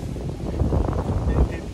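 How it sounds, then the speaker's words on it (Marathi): Strong wind gusts during heavy rain buffet the microphone with a steady, loud, low rumble that swells and eases over a couple of seconds. "लय पाऊस चालू आहे आणि वारा पण भरपूर"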